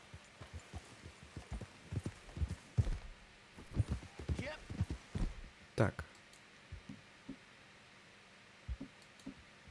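A horse walks in the Red Dead Redemption 2 video game, its hooves clip-clopping in an uneven run of soft, close knocks that trail off near the end.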